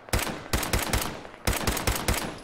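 Pistol fire in the video game Fallout 4: two quick bursts of about four sharp, loud shots each, separated by a short pause, with no talking.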